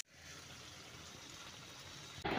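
A little water poured into a pan of spiced potatoes with bitter gourd, a steady close gushing splash that lasts a couple of seconds and ends with a brief louder burst.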